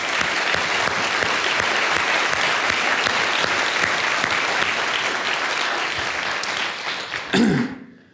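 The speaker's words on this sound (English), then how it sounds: "you and Mary Catherine deserve a big round of applause" Audience applause at a university celebration event, a dense, steady wash of clapping from a sizeable crowd that holds evenly for about seven seconds, then swells briefly and fades out.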